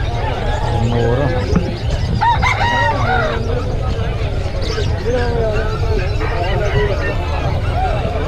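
Roosters crow repeatedly at a chicken market in Nueva Ecija among clucking fowl, with loud bargaining voices over a busy background.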